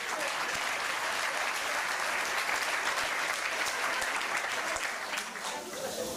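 An audience applauds in a cabaret café during a welcome, with steady, fairly dense clapping from a crowd that holds throughout.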